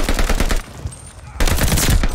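Rapid incendiary-round gunfire in Call of Duty Vanguard, loud dense bursts before and after a short lull, with the game's combat mix behind it.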